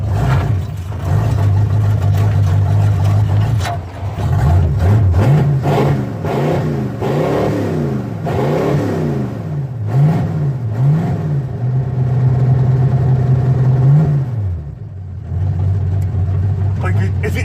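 A Malibu stock car engine runs in gear at its first start, holding a loud low rumble with several rising and falling rev swells, close by, with people talking over it.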